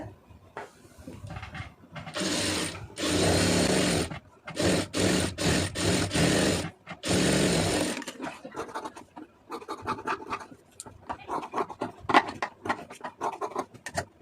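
A sewing machine stitches a puff sleeve in bursts, loud runs of rapid needle chatter broken by short pauses, then quieter scraping and handling of the fabric.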